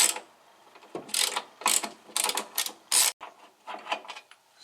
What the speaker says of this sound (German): wenn wir die Ratsche nehmen.